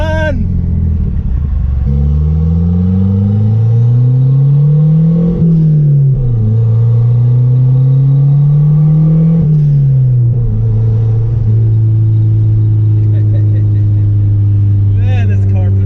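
A boosted car engine revs and accelerates hard, loud and close, its pitch climbing and dropping through gear changes in repeated pulls, with a steady rumble beneath.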